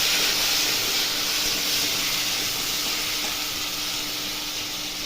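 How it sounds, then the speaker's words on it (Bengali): Potatoes with a little salt and turmeric frying in a pan, a loud continuous close sizzle and hiss that fades slightly over the few seconds, with no voices. "দিয়ে আলুটা অল্প ভেজে নেবো।"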